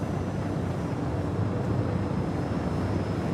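A spaceship's main thrusters in Star Citizen give off a steady, low roaring rumble with a broad windy hiss, sustained and even throughout with no voices.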